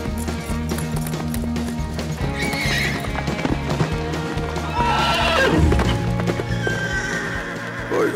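A horse whinnies and its hooves clip-clop steadily throughout, loud and close, with a second neigh rising near the middle amid a busy dramatic film scene.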